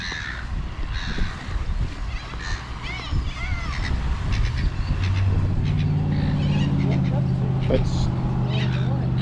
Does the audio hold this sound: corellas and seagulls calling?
yes